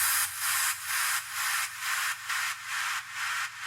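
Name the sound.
white noise effect with width automation in a track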